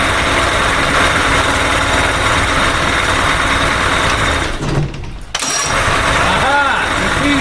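A 1992 Johnson 60 hp outboard motor cranks and catches, giving a loud, continuous mechanical rumble. The sound drops out briefly, then the engine runs on with a rough, wavering tone close by.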